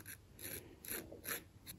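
Hobby knife scraping a plastic funnel part of a 1/200 scale IJN Mikasa ship model, four or five short rhythmic rasping strokes, close and quiet, no voices.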